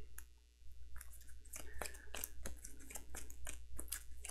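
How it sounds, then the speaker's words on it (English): Close, quiet riffling and crisp clicking of cards being shuffled back into the deck during a Townsfolk Tussle board game, as a run of sharp, irregular ticks that patter on for several seconds. "reshuffle, which is basically just shuffling this into"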